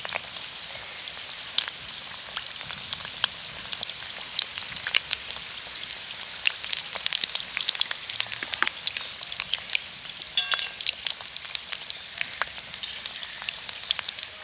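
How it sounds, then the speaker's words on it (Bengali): A batch of sago pakoras sizzles in hot white oil in a wok, a continuous close crackling hiss dotted with bright pops, running steadily and alone without speech. "একসাথে অনেকগুলো পকোড়া ভেজে নেওয়া যাবে।"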